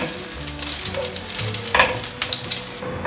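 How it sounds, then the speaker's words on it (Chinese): Sliced ginger sizzling in hot oil in a wok while stir-frying a vegan potato and tofu dish, a steady bright crackle with occasional spatula scrapes, close and continuous with no talking. "所以用片状的姜 放下去爆香"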